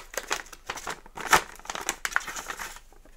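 Soft parcel being unwrapped, its plastic packaging crinkling and rustling in a series of close, irregular bursts with one sharper tear-like crackle midway, no speech over it.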